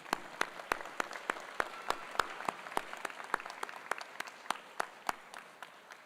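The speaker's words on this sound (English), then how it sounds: "please join me in a round of applause to show your appreciation for those that have" Guests at a dental school White Coat Ceremony applaud; sharp, distinct claps ring out at a fairly regular pace over a soft background of scattered clapping, staying moderately close and steady.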